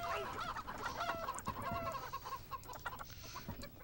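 Chickens clucking close by, with busy overlapping clucks and short calls over a dense, noisy farmyard background, continuous throughout.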